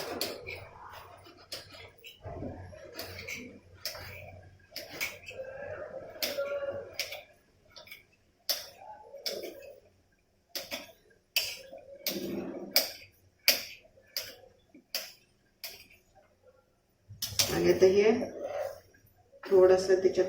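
Dry coconut being cut with a kitchen knife, sharp clicking and tapping strokes in irregular bursts, close by, with someone talking softly between the cuts.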